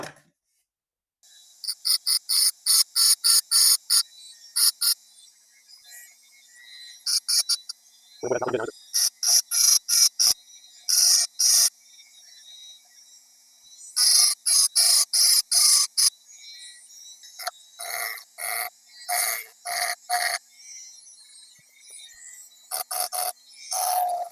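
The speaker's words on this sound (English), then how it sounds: "I want to pick a very small parallel walled stone for thinning out the triangle first" A small parallel-walled sharpening stone rasps back and forth against a Boker AK knife blade during thinning, in bursts of quick, close scraping strokes separated by brief pauses.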